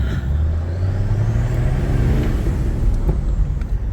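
A BMW 335d diesel with its emissions equipment deleted drones steadily from inside the car, a low engine rumble with a slowly rising tone and road noise, continuous throughout.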